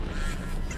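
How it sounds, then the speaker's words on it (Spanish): A short, dense honking quack from a duck in the video game ITOWN, loud and close, lasting under a second on its own. "¡Un patito!"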